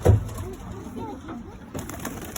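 Homing pigeons, red Iraqi birds, give low soft coos in a loft, a few rounded calls close by, with a sharp thump at the start and a faint steady hum behind.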